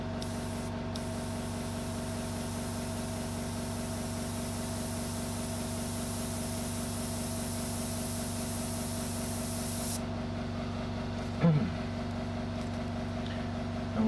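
Airbrush spraying paint on a portrait, a steady hissing spray running for about ten seconds over a compressor hum, then stopping abruptly, followed by a brief clunk.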